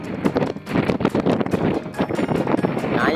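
Strong wind buffets the microphone in loud, rough gusts on a high hilltop near the sea, a constant roaring rumble with repeated sharp bursts throughout.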